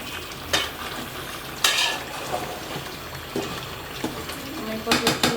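Chicken for biryani being stirred and dried out in a hot pan, with a soft sizzle and scraping spoon strokes against the metal, several sharper clatters of utensils standing out, close up.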